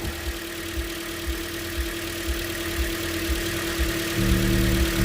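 A 2013 Toyota Corolla engine with a misfire idles steadily close by, a low pulsing rumble that holds even, then thickens and grows slightly louder near the end.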